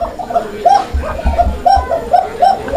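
A fancy pigeon coos repeatedly up close indoors, a rhythmic series of low, throaty warbling calls with no talking.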